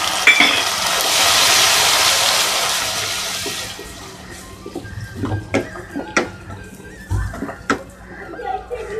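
Ginger garlic paste goes into browned onions in a hot pan for Rajpipla chicken curry: a loud, broad sizzling hiss swells for a few seconds, then settles into quieter frying broken by sharp spatula taps and scrapes.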